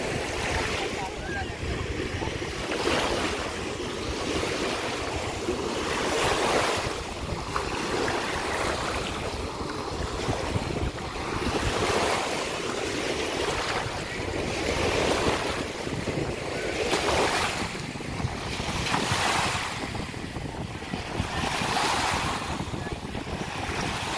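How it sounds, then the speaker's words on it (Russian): Sea waves breaking on a beach in Tunisia, a steady roar of surf rising and falling every few seconds, with wind buffeting the microphone throughout and no voices. "Шум волны."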